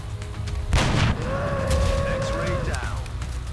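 A single heavy gunshot booms from XCOM: Enemy Unknown, a loud, sharp blast that rumbles briefly before fading under a tonal electronic sweep and game ambience.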